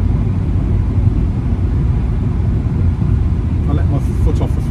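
A 2.0 GT VW Scirocco with DSG gearbox driving along, a steady low engine and road rumble heard from inside the cabin, with a faint click near the end.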